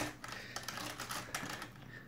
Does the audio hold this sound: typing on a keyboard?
yes